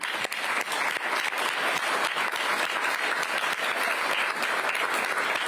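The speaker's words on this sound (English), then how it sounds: "So first of all, just a round of applause to interns generally." A large audience applauds interns at a NATO Association of Canada event hosted for the NATO Secretary General, a steady, dense wash of many hands clapping that stays loud and even throughout.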